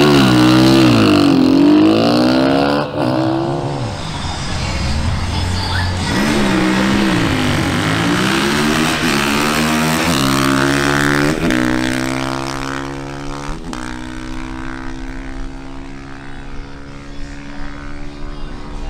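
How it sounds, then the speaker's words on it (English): A Honda CRF450R motorcycle on a drag racing run, loud and close at the start, then climbing through repeated rising gear pulls as it speeds away, with no talk. "Now, it's Dan Monsalve's turn on his Honda CRF450R."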